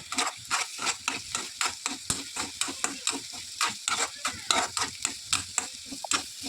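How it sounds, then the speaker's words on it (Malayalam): Rhythmic scraping of a spatula through food frying in hot coconut oil, steady sizzling under repeated strokes at a quick, even pace. "ഇനി വറുത്തിട്ട് എടുക്കണം"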